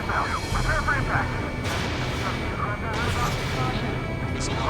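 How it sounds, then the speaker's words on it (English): An enemy missile strikes in Ace Combat 7, with an F-14A involved: a rumbling, sustained barrage noise with two sharper crashing bursts about a second apart, loud throughout. "Enemy missile inbound. Prepare for impact."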